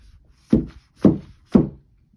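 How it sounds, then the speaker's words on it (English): Three hard knocks land at an even pace, each a dull thud of a tablet striking a desk, with silence between them. "that's the sound of my tablet hitting the desk"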